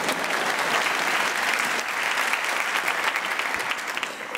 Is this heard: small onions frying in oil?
no